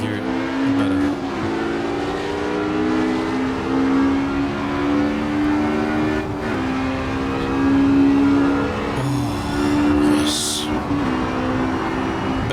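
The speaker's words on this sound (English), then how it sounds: "V8 and flat 6 together." A V8 and a flat-six 1960s race car engine roar together in a racing video game at Riverside, a loud sustained blend of two engines with rising and falling pitch as they accelerate and shift, close and continuous.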